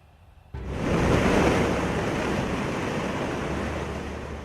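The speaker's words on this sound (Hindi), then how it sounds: "अभी भी बागमती नदी खतरे के निशान से ऊपर बह रही है।" The flooded Bagmati river, risen above the danger mark in Samastipur, Bihar, rushes with a loud, steady broadband roar after a quiet start, like heavy surging water and wind with no talk.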